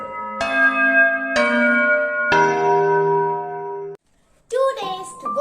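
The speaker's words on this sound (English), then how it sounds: "Bells are ringing." Christmas bells ring out in three loud, resonant strikes, each tone lingering and decaying before a short pause and a brief burst of other sound at the end.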